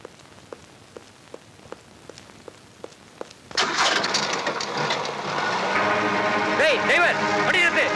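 A car engine that was pushed to get going. Scattered light ticks give way to a sudden loud start, and the engine then runs on as a steady, strong roar while voices speak over it.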